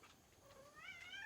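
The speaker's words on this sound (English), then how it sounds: "sorry, my cat." A house cat gives a short, faint rising meow close by in a quiet indoor room.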